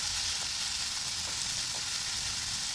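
Thinly sliced snake gourd fries with salt in a pan, making a continuous close sizzle with a few faint scrapes as it is stirred, and no talking.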